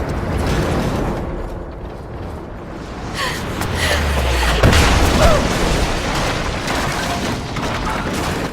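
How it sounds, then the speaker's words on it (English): Gunfire and explosions from the video game Rise of the Tomb Raider, heard as a loud, dense barrage with booming low rumbles and crackling shots layered over continuous game ambience. "They're firing at me!"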